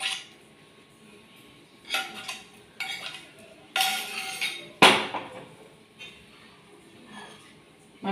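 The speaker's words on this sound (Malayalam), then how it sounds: "നമ്മളൊന്ന് ഇളക്കി യോജിപ്പിക്കുക." A utensil stirs scrambled egg into homemade noodles in a pan, producing scattered clinks and scraping knocks in irregular bursts, with one sharper metallic hit midway, close-up over a quiet background and no speech.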